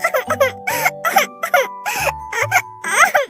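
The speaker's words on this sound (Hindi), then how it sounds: "अरे ये तो चीकू के रोने की आवाज है।" A young cartoon character cries in a Hindi animated story, giving loud, close, voiced wails and sobbing bursts in quick succession with short breaks between them.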